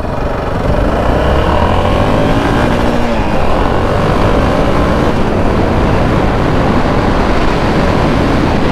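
A 2005 Yamaha XT660R single-cylinder motorcycle pulls away from a standstill, its engine note loud and steady throughout with a rising rev under heavy wind rush, no talk.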